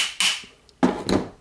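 Hammer blows on the armature of a Makita 9565CVR corded angle grinder during repair, two sharp strikes close by, each followed by a short ringing decay, with no talking.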